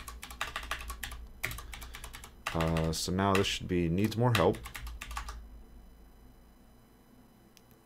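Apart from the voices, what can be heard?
typing on a computer keyboard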